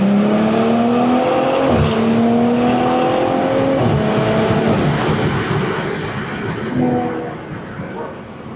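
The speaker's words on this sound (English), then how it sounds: "It's just the perfect amount of exhaust note that you want to highlight the B58's beautiful engine characteristics" A BMW M340i exhaust with the B58 engine in Sport Plus mode revs up and down several times, rising and falling pitch sweeps, loud and close, with no talking.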